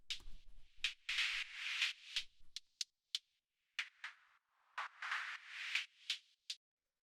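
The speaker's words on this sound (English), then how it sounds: "The next thing we have here is this little noise hi-hat" Synthesized noise hi-hat for an organic micro house groove, a string of short bright hissy hits in an irregular, shuffling pattern, some stretched into soft swells, playing alone and fairly quiet.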